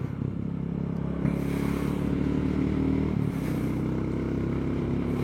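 Royal Enfield Goan Classic 350 motorcycle riding along in third gear, a steady low engine thump with road and wind noise, continuous and fairly close throughout.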